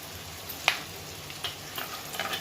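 Green chillies and curry leaves frying in oil for upma, a soft steady sizzle with a few sharp crackles and pops standing out above it, close and fairly quiet with no talking.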